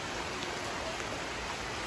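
Steady, dense hiss of heavy rain pouring down, a constant wash of noise with no breaks and no voices.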